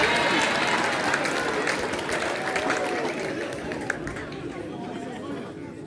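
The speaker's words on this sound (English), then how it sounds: "Give a clap for me." A crowd at a Christmas talent show finale claps and chatters for a performer, a sustained wash of applause mixed with voices that gradually fades.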